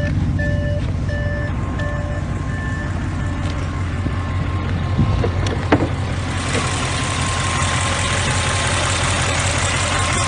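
Audi RS7 tuned to 730 horsepower idling with the hood up, a steady low engine rumble close by; a repeating beep sounds early on and a brief knock or clunk lands partway through.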